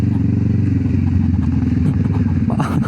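Kawasaki Z650 motorcycle ridden on a trail, its engine a steady, loud low rumble with rattling and clatter from the rough ground throughout, ending in a brief burst of noise.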